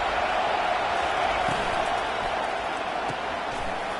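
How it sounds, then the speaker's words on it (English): Broad, steady roar of a large stadium crowd at a football game, with a voice speaking over the constant din. "This crowd bringing the energy and noise early."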